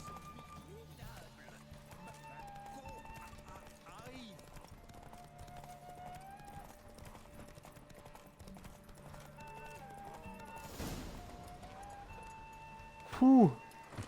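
In a horse race in The Witcher video game, hooves clip-clop rhythmically throughout, with occasional neighs and whinnies and bursts of game sound effects. Someone speaks French at times over the galloping.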